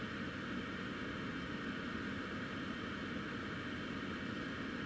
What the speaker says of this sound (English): Quite impressive, that touchdown.